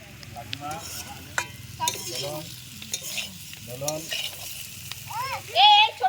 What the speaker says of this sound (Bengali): আলু ভাজা হচ্ছে আলু ভাজা